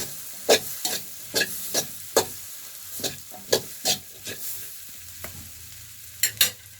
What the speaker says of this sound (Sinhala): මේක ටිකක් ෆ්‍රයි කරන්න ඕන